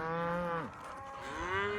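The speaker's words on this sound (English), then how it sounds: "our cows, which are all wadded up on the fence ready to go, can come across" Cattle crowded along a pasture fence give two drawn-out moos, the first falling in pitch and the second rising, close and clear with no talk.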